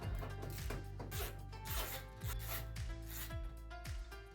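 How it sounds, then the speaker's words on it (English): Screws are removed from the back panel of a GE electric stove, producing a steady close-up gritty rubbing and squeaking with repeated low sweeping tones, like a driver turning against sheet metal, with no voices. "There are 4 screws to unscrew."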